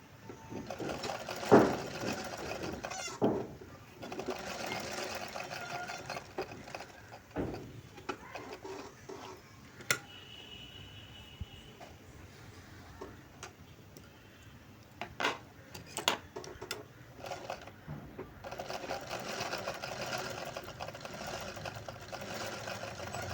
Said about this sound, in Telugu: ఇలా థ్రెడ్ పక్కనే కుట్టు పడే విధంగా కుట్టుకుంటూ రావాలి చూడండి